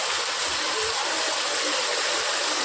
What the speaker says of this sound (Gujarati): પવન સાથે વરસાદ આવી રહ્યો છે